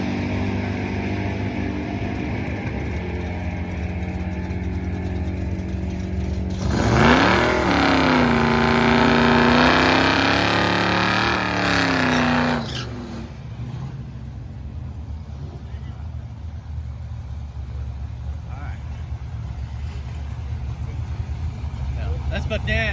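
A Buick muscle car at the Buick Nationals drag race, its engine roaring loud for several seconds as it launches and pulls away, then fading into a steady background hum, recorded on a phone.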